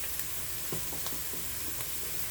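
Pork-rind-coated food fries in a pan with a steady, soft sizzle throughout, with a few faint clicks of stirring and no voices.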